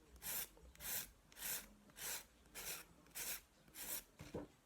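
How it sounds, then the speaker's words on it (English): A nail file rasps across hard gel on a fingernail in eight steady, evenly spaced strokes, each a short bright scrape with brief pauses between, close and fairly quiet. "you can see it's filing it quite nicely off there"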